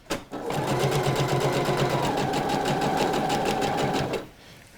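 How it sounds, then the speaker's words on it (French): A sewing machine stitches a seam allowance on a pair of trousers with a fast, even mechanical rattle. It runs close and loud for about four seconds, then stops. "Et je couds dans ma marge de couture"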